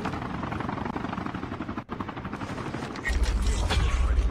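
A helicopter lands on a rooftop in a first-person shooter video game, its rotor chop pulsing steadily under bursts of gunfire, with players talking over it and the rumble growing louder toward the end.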